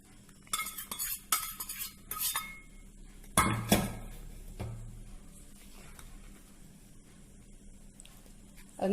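Sathu maavu flour being mixed with a spoon in a bowl after hot ghee with roasted cashews is poured in, giving a few close scraping strokes and clinks of metal against the bowl, then quieter shuffling.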